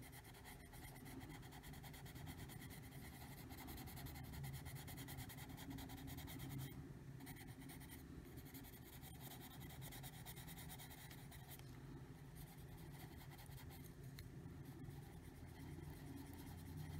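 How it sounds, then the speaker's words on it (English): Loud traffic passing outside a room where someone sits colouring, a steady wash of car engines and tyre rumble that swells and fades continuously through the whole stretch, with no talk. "Sorry for the loud cars outside."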